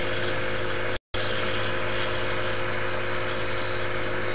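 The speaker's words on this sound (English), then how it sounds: "so now we'll do a little sanding" Sandpaper of 320 grit is held against a small bocote wood bead spinning on a lathe, giving a steady, even hiss and whir over the motor hum, with one brief dropout.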